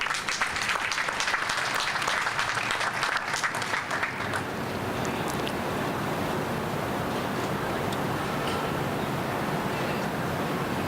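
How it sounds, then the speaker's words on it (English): A big round of applause for Greg at a Father's Day pledge signing ceremony in Pittsburgh: dense, loud crowd clapping that thins into a softer, washing hiss of lingering claps. "A big round of applause for Greg for arranging this amazing space for us."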